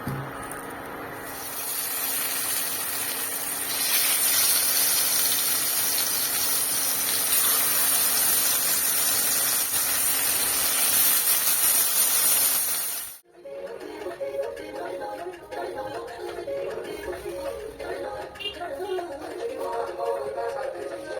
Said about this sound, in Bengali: তো চলো এখন আপাতত এটা ভেজে নিই মাছটা